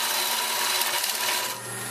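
A chisel cuts a mesquite hollow vessel spinning on a wood lathe, making a steady, close, broadband scraping hiss that tapers slightly near the end, with no talk.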